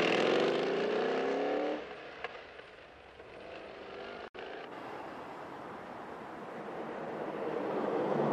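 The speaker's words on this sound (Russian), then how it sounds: "мотор у нее работает как часы. Вы только послушайте." A car engine from 1982 runs steadily and fairly quietly, with a smooth hum that dips briefly and then swells louder toward the end, with no talking over it.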